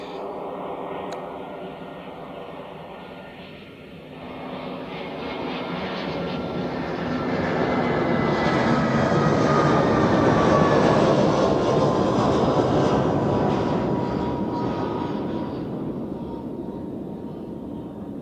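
Swiss Airbus A320 from Luxembourg landing on runway 14 at Zurich, a loud jet roar that builds steadily as it nears, peaks overhead with a falling whine, then eases off, with no voices.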